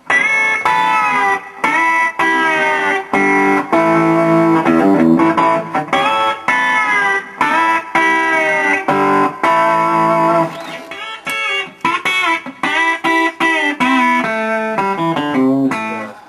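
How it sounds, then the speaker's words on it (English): A heavily distorted electric guitar, a B-Bender Telecaster, plays a country riff with sustained, gritty notes and bends, loud and up close, with no voices. "here's what it sounds like with the distortion"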